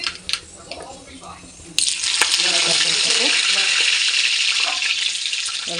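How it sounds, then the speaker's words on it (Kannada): Half a tablespoon of mustard seeds hits hot oil for a potato curry tempering: after a quieter start with a clink, a loud, sudden, dense sizzle and spatter rises and holds steadily up close. "ಈಗ ಎಣ್ಣೆ ಕಾದಿದೆ. ಒಂದು ಅರ್ಧ ಟೇಬಲ್ ಸ್ಪೂನು ಸಾಸಿವೆ"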